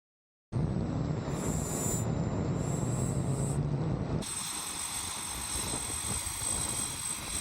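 Aircraft engines left running after landing give a loud, steady whine and roar that starts abruptly. A high tone rises and falls on top, and the sound shifts to a harsher, brighter hiss partway through.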